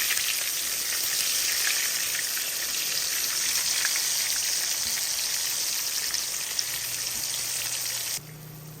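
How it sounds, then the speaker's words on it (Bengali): Eggplant slices fry in plenty of hot oil with a steady, dense crackling sizzle that holds even and close for the whole stretch, then drops to a quieter hiss near the end. "আমার বেগুন ভাজাটা হয়ে গিয়েছে"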